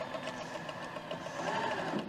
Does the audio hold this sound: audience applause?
no